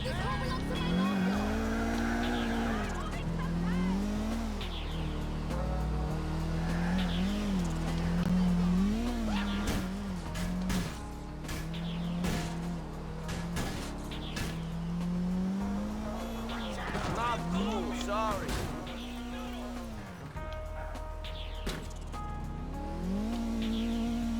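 GTA IV car engine whining and revving as it strains to pick up speed, with rising and falling pitch and occasional tire squeals.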